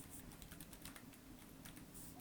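Typing on a computer keyboard, a short burst of quick, light, close key clicks in an uneven rhythm, ending with one sharper louder tap, with no voices.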